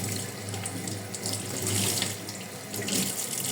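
Water runs from a tap into a sink in a steady, close hissing splash that keeps flowing throughout with slight surges, no talking.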